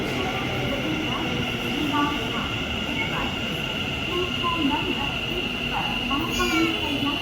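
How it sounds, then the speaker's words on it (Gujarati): A metro train pulls into a busy underground station, its steady rumble and rail noise filling the platform while children's voices and crowd chatter carry underneath. "ચાલો, આપણી ટ્રેન આવી ગઈ છે."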